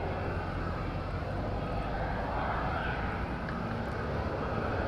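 An EasyJet airliner on approach to Porto Santo from Porto at the Madeira islands, its engines a steady, broad distant roar that holds evenly throughout with no voices.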